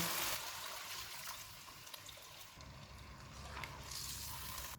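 Water splashes and trickles into a pot of browned beef, faint and close, with a brief pause before the pouring resumes.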